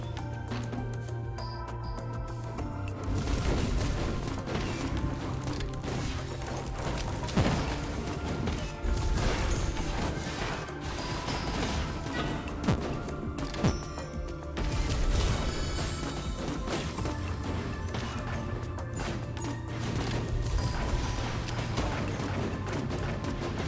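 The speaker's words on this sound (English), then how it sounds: "These are some pretty crazy explosions." Repeated explosions in the action game Sephiria, a dense, continuous barrage of crashing blasts and impacts layered over game music, loud and sustained throughout.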